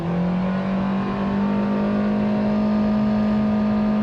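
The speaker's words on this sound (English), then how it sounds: "So let's go ahead and see what we can get here when we brake torque it." A front-wheel-drive 2023 Nissan Versa SR accelerates hard from a brake-torque launch, its engine a loud, steady droning roar with a strong low hum held for the whole stretch, no voices over it.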